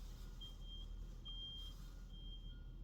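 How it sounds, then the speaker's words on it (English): A big orange lorry reverses with its warning alarm going. Thin, steady beeps repeat three times at even intervals and sound faint and distant over a low background hum. "There's a big lorry reversing in the background"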